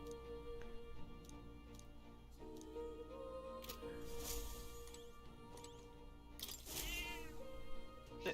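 A cat meowing in the video game Metaphor: ReFantazio, two short rising meows near the middle and end, fairly faint over a soft ticking, music-like game backdrop.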